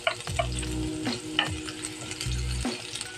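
Onion and garlic sizzle in a frying pan for chicken sisig while being stirred, with steady close frying hiss and scraping clanks of the utensil against the pan.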